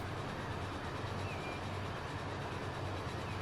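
A freight train passes in the railway game Transport Fever 2, a steady low rumble with faint rail noise that holds at an even level throughout.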